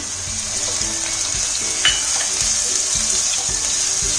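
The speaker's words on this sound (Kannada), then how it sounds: "ಈಗ ಈರುಳ್ಳಿ 2 ನಿಮಿಷ ಫ್ರೈ ಆದರೆ ಸಾಕು, ಫುಲ್ಲು ಫ್ರೈ ಮಾಡೋಷ್ಟಿಲ್ಲ" Onion and green chillies frying in oil for vegetable fried rice, a constant bright sizzle close by with regular soft stirring strokes roughly twice a second.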